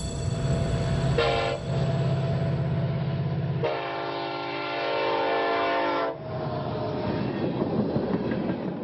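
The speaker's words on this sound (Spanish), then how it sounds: "los trenes cisterna, con hasta 118 vagones cargados con petróleo, entran y salen de la terminal portuaria" Oil tank freight train of up to 118 cars rumbling past a port terminal with clattering wheels, interrupted by two loud horn blasts, one short and one long and sustained.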